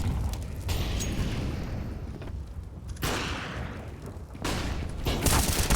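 Wall-bang gunshots in Counter-Strike on the Overpass map come as heavy bursts of fire, loud and close, in two or three dense clusters separated by brief lulls.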